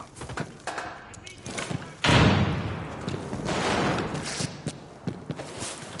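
A frag grenade detonates in a PS4 shooter game, a single loud, full-bodied blast that rumbles on for a moment, with scattered thuds and clicks before and after.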